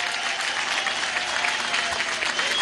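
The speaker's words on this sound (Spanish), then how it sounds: "Pido para él un aplauso." A large crowd at an outdoor political march applauds loudly and continuously, a thick roar of clapping with a faint murmur of voices mixed in.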